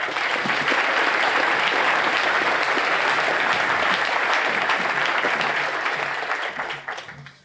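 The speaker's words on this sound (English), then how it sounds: "please join me this morning in giving him a round of applause and welcome him to the podium" A large audience at a Fort Jackson basic training graduation claps in loud, sustained applause that fills the whole stretch, then thins out and fades near the end.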